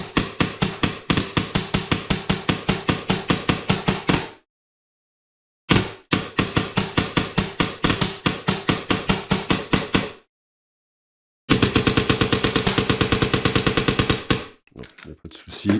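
Custom airsoft replica firing rapid full-auto bursts, loud and close, three long strings of sharp mechanical cracks with short pauses between, the last burst emptying the magazine and trailing into a few faint clicks.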